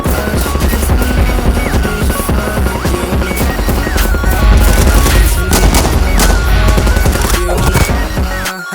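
Rapid AR-15 rifle fire in a Madness Combat animation, heavy and continuous, with dense bursts of shots over loud, booming action effects throughout.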